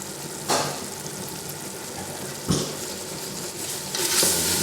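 A spoon stirs dark ancho chili powder into a basic barbecue sauce in a pot, with a low liquid sizzle and a few louder scraping strokes spaced a couple of seconds apart.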